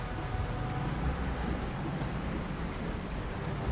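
Steady rain in the video game Project Zomboid, a constant dense hiss with a low rumbling undertone, even in level throughout and with no talking.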